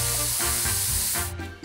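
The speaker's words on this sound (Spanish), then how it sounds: "¿Un spray arcoíris?" A rainbow-colour spray paint can sprays in close, loud hissing bursts, with brief dips between pushes before the spray cuts off near the end.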